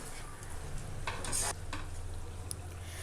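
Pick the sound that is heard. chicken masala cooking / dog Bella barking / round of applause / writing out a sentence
chicken masala cooking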